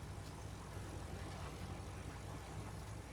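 A truck engine runs as a steady, faint low rumble throughout, with no talk over it.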